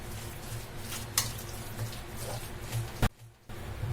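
A green pea snack mixture with spices and salt is stirred with continuous close scraping and rustling, broken by a couple of sharp knocks and a brief quiet pause near the end.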